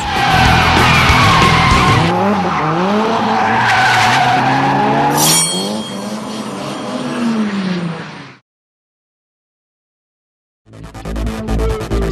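Street cars drifting at Nanko port in Osaka, engines revving hard and tires squealing in long rising and falling skids, loud and close, fading out before another car roars in.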